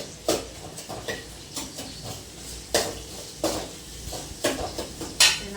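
Onions with salt sautéing in a pan, a soft steady sizzle broken by repeated clanks and scrapes of a spoon stirring against the metal, close and intermittent.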